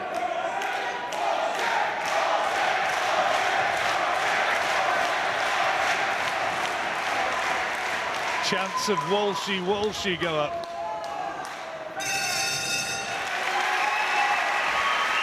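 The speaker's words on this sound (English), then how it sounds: "the crowd rapturous in their acclaim" A boxing crowd at a Patrick Liam Walsh fight roars and applauds continuously, a dense wash of cheering that swells near the end, with a commentator talking over it throughout.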